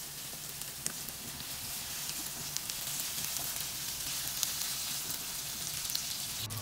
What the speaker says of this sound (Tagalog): iginilid ko muna para mag-start na rin ako maggisa ng sibuyas, bawang at kamatis